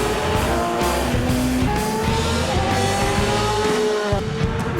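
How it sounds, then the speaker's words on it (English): A race car at a KZN road racing round drifts with its tires squealing in long sustained tones. The engine drones loudly beneath the squeal for the whole stretch. "drifting into third place."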